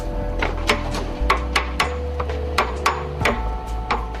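A wooden pillar being hand-carved to fit its foundation stone in traditional timber building, with sharp irregular chopping and tapping strikes close by over a low steady hum.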